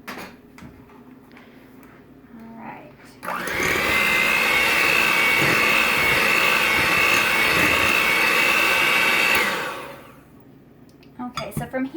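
An electric mixer starts up after a few seconds of quiet kitchen clatter and whirs loudly and steadily through banana bread batter for about six seconds, then winds down, followed by light clinks.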